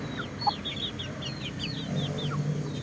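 A Shamo brood cock clucks and calls in a quick series of short rising notes, close and moderately loud, over a low rumbling farmyard background.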